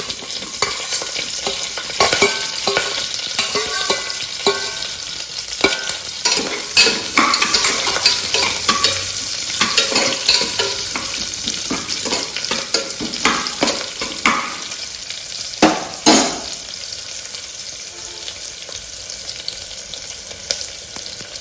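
Onions and green chillies fry in a pan for tomato rice, a steady loud sizzle with repeated spoon scrapes and stirring clatter throughout.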